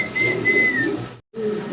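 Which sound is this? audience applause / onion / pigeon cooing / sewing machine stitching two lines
pigeon cooing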